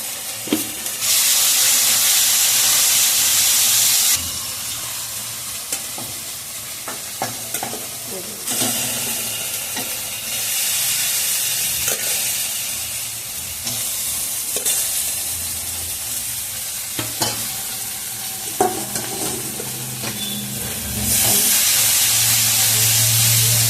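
Spiced masala with turmeric and salt sizzles and hisses in a pan for prawn malaikari, with steady frying broken by repeated scrapes and stirs, loud and close, fading down at moments before surging back, no voices.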